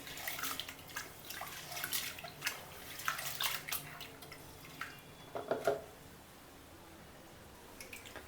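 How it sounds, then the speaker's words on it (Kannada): Water splashes and trickles in uneven bursts, with drips and pouring as lentils are rinsed and drained, fairly quiet and close. "ಇನ್ನೊಂದು ಸತಿ ತೊಳೆದು ಮತ್ತೊಂದು ಸತಿ ಬಸಿತೀನಿ"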